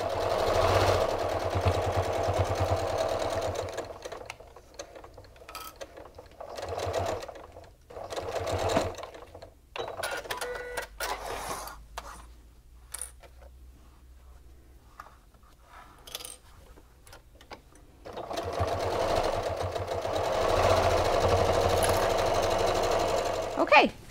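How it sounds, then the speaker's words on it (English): A domestic sewing machine stitches quarter-inch seams down the sides of a small fabric pocket tissue holder at standard stitch length, running in steady close-up bursts with a quieter pause in the middle where the stitching stops before resuming. "I'm gonna take it to the machine and I'm gonna sew a seam here and a seam here."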